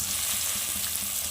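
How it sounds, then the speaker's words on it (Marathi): Finely chopped tomato hits hot oil with browned onion for palak paneer, giving a dense, bright, continuous sizzle heard up close for a brief moment. "आता आपण त्यामध्ये टोमॅटो टाकून घेऊया बारीक चिरून घेतलेला."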